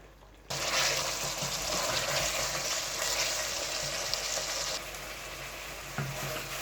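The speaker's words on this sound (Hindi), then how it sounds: "इसको अब मैं 5 मिनट थोड़ी आंच जो है उसको तेज़ करूँगी और इसको भून लूँगी" Masala and chicken fry in ghee over high heat for a gobi gosht dish, a loud, close, continuous sizzle that starts abruptly and eases slightly near the end, with faint stirring.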